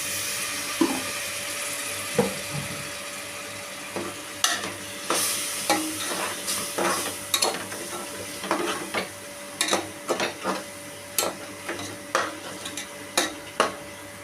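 Spice masala with garam masala powder and a little water frying in a pan while a spoon scrapes and stirs it, a soft steady sizzle under repeated sharp metallic stirring clinks that grow more frequent toward the end.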